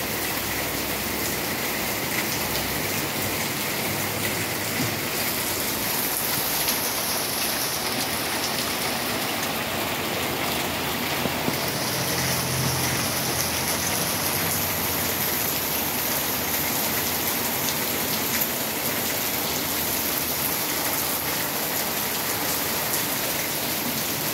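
Steady rain falls and patters on surfaces with a dense, even hiss that runs throughout, loud and close, with no voices.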